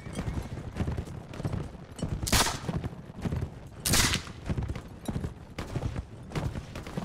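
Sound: horses galloping in Mount & Blade video game

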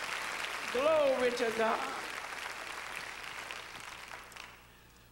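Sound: congregation clapping hands in church

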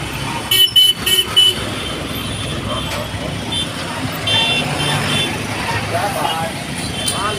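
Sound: Mumbai road traffic with car horns

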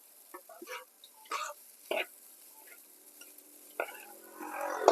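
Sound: stir-frying spicy dry field rat with kaffir lime leaves

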